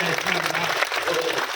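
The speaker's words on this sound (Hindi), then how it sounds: "हाथ उठाकर जोरदार तालियां बजाओ गोविंद राठी के लिए" An audience at a Hindi poetry recital claps loudly for a short stretch while a voice carries on over the applause.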